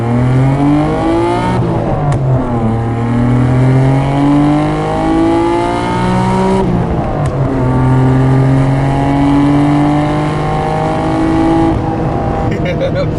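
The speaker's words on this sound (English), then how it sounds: "Man, I love the way this RB sounds, man." A 1992 Nissan Skyline GT-R R32 with its RB engine revs up through the gears, rising in pitch, dropping at each shift, then climbing again, loud and close throughout.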